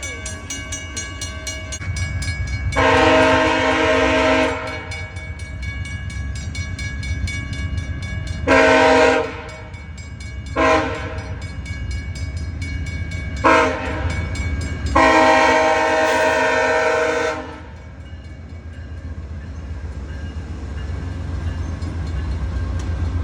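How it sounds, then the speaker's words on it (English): A passenger train, with Renaissance cars soon to retire, pulls out of a siding at Casselman, Ontario, its horn sounding in several long and short blasts over a steady rumble of rolling wheels and engine. "here's the train now coming out of the siding"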